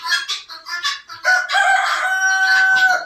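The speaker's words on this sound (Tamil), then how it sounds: "இதான் நம்ம சேவல், நாட்டு சேவல், பெரிய சேவல் பாருங்க." A large native country rooster crows loudly and close on a farm with chickens and ducks, a couple of short clucking calls leading into a long drawn-out crow.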